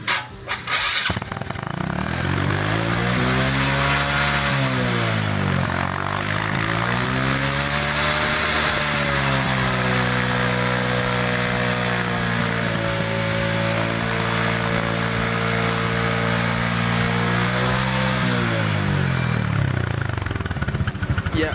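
A Honda Karisma motorcycle engine with a carburetor running rich idles and revs steadily and loudly up close, the pitch rising and falling a few times, with no talking.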